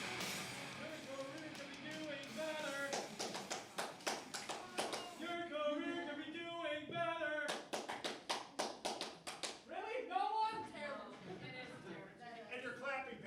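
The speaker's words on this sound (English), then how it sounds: "And your clapping pattern was out of hand" An audience at an IWE wrestling match clapping in rhythmic patterned bursts, mixed with a commentator talking over the applause throughout.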